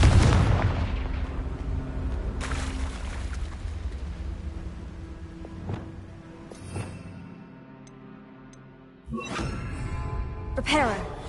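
Fiery Confringo spell blasts in the video game Hogwarts Legacy, several loud broadband bursts at the start, near 2.5 s and again near 9–11 s, set over ongoing game sound with some voice present.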